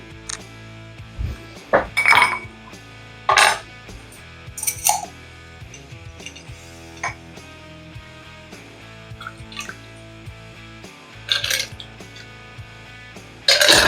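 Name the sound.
cocktail strained into glass over big ice cube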